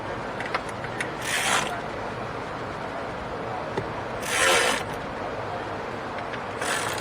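A ratchet wrench with a socket tightens spark plugs on a Ford Edge 3.5 V6, making three short raspy clicking bursts spaced a few seconds apart over a quiet background.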